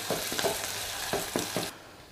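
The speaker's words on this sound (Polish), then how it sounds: "I cebula musimy, proszę Państwa, trochę smażyć" Onion frying in a pan, a steady hiss of sizzling with soft rhythmic scraping strokes as it is stirred, close and alone.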